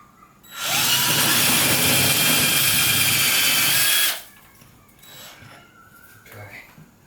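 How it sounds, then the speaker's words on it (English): Power drill boring a 1/2 inch starter hole while assembling an IKEA Varde shelf, a loud steady whine running about three and a half seconds near the mic, then quieter handling and faint background sounds. "to bore a 1/2 inch starter hole"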